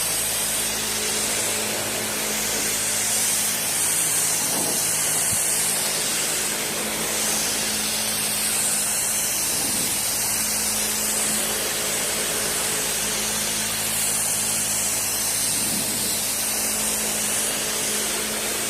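A spray gun lays 2K primer over the top of a car fender as a continuous loud, airy hiss that holds steady with only slight swells across the passes.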